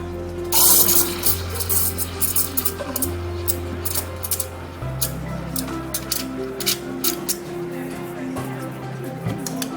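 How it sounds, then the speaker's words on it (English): An espresso machine steam wand froths milk in a pitcher for a latte macchiato, giving a steady loud hiss and gurgle that shifts in pitch as the milk heats, with a low machine hum underneath. "Froth the milk."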